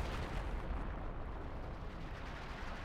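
Howitzer fire in the World War II strategy game Company of Heroes 2 comes as a dense, continuous rumble of booms and blasts that blur into one low, rolling roar, with no talk over it.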